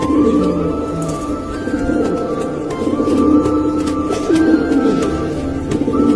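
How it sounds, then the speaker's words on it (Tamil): Pigeons coo in low, soft, repeated calls, with steady background noise and faint tonal hum throughout. "நமக்கு இந்த புறாங்கெல்லாம் இருக்குது"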